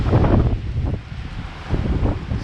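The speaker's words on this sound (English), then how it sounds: "Oh man, it's super strong windy." Strong wind buffeting the microphone in a continuous low roar that surges and eases, with no voices.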